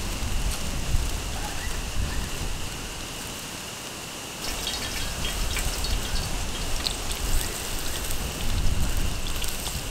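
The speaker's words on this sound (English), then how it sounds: "that rain's starting to get pretty heavy now" Steady heavy rain pouring down at a campsite, a dense continuous hiss with pattering drops throughout, close and loud, no talking.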